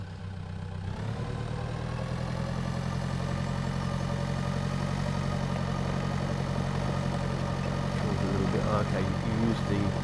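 Tractor engine in the farming game Pure Farming, idling and rumbling steadily with a low, continuous drone that fills the whole clip after a brief start, with a voice talking over it.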